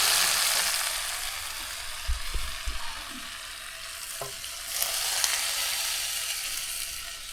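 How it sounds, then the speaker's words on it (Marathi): Spices sizzle in hot oil for a tempering (phodni) on a wood-fired stove, made for a jackfruit vegetable dish. A continuous frying hiss runs throughout, broken by a few close knocks and scrapes of stirring. "चला झाली फोडणी घ्या एवढंच"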